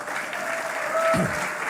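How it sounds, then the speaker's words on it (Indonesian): A church congregation at a GBI worship service applauds in a brief, dense wash of clapping, with a voice briefly rising over it. "Ayo tepuk tangannya."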